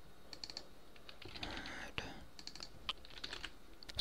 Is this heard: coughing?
no